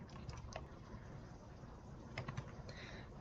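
Keys on a computer keyboard are pressed in a few quiet, scattered clusters of clicks over a faint, steady room hiss.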